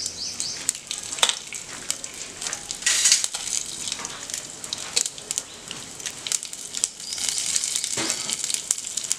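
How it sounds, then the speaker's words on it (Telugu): Tempering spices and dried red chillies fry in hot oil for a tomato and amaranth-leaf curry, crackling and sizzling close by. Scraping stirs and sharp pops rise and fall, and no one speaks. "నూనె వేడకగానే మనం ఇందులో పోపు సామాన్లు వేసేసుకుందాం."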